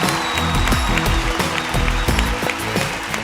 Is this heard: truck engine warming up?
no